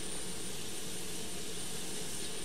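Boeing 727-200 auxiliary power unit running in a flight simulator, a steady, loud, broadband whine and rush that holds constant throughout with no voices.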